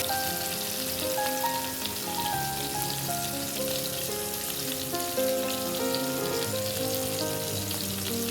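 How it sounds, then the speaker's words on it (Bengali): Flour-coated chicken pieces frying in hot oil for a butter garlic chicken dish, a steady dense sizzle and crackle running evenly throughout with small popping bursts, close and fairly loud with no talking. "আমি এবার চিকেনগুলোকে ময়দাতে কোট করে তেলের মধ্যে ছেড়ে দিই"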